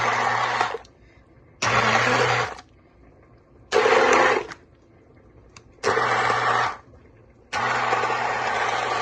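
A blender whirs through haleem in five short bursts of about a second each, separated by quieter pauses with a low hum underneath.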